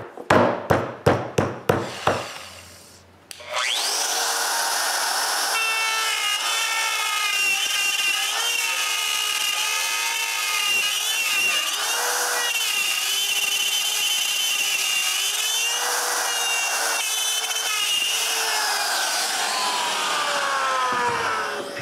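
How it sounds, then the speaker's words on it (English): Router clearing wood around a pattern for a coat rack, preceded by a few sharp taps, then a loud continuous high-pitched whine with shifting pitch as the bit cuts, close up. "I stick my pattern on top of this and use a router to clean the rest of the wood."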